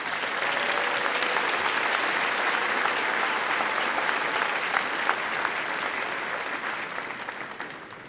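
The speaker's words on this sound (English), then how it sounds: "Please join me in a round of applause" Sustained applause from a large crowd at a university commencement ceremony, steady throughout and tapering slightly at the end.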